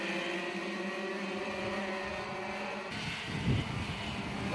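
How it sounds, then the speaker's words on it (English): Junior racing karts of the birelART UK junior class on the Glan Y Gors circuit in Denbighshire: a steady, droning chorus of high-revving small engines, continuous and fairly loud, with a shift in pitch partway through, no voices. "the Valley of Denbighshire now resounding and ringing to the sound of 2100cc engines"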